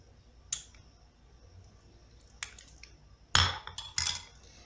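A spoon clinks against a bowl while stirring coconut oil and garlic juice, giving a few separate metallic taps and scrapes, with the louder ones near the end, in an otherwise quiet room.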